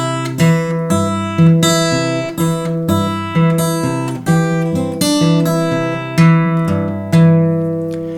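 Fingerpicked acoustic guitar plays a syncopated Jingle Bells melody over an alternating bass line, with bright, ringing plucked notes in a bouncy, uneven rhythm that decay between attacks, clear and upfront.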